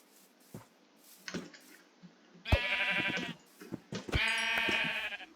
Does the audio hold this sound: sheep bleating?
yes